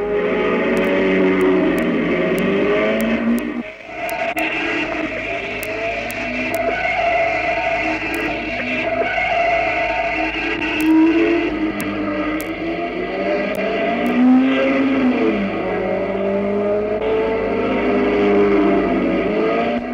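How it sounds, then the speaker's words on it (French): A 1958 racing car engine screams loudly and steadily down the grandstand straight at the Charade mountain circuit, its pitch rising and falling as it revs, with no pause throughout. "aborde la ligne droite des tribunes en faisant hurler son moteur"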